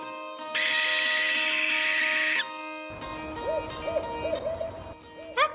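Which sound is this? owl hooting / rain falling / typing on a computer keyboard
owl hooting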